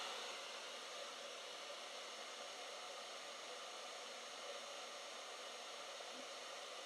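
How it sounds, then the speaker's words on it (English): A blow dryer runs steadily at close range, its even broadband whoosh unbroken while it heats the end of plastic hula hoop tubing. "you want to hold the blow dryer right against the end of the tubing"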